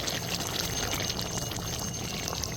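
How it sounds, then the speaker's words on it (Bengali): A little water is poured into chicken gravy in a pan for Bengali doi chicken, a steady close splashing pour lasting the whole moment with no voices. "এর মধ্যে দিয়ে দিব আমি অল্প সামান্য জল যাতে চিকেনটা খুব ভালো মতো সেদ্ধ হয়"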